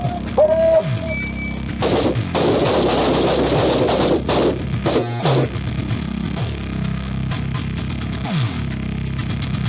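Gunshots fired at a shooting range crack out loud and close, a few sharp reports among steady outdoor background noise and a brief high whistle early on.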